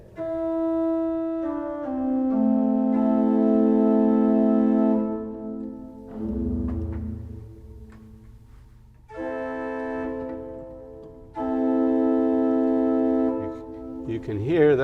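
The four-foot stop of a Brunzema Opus 12 pipe organ in a church plays a slow sequence of sustained chords with clear bright pipe harmonics. The chords are separated by a brief gap that carries a low rumble.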